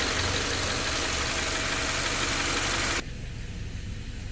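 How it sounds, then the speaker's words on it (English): A car engine idles steadily with a dense, loud rumble that drops suddenly in level partway through, no talk over it. "so my engine's still running"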